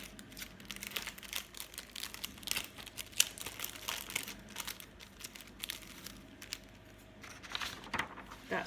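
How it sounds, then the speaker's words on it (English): Cellophane wrapping around a craft frame crinkles in repeated close, sharp rustles and crackles as the frame is lifted out, fairly quiet and irregular throughout. "Let's just take that one out because the light's shining on the cellophane."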